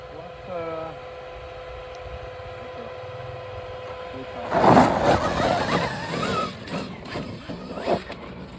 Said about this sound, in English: This is an electric Stark dirt bike.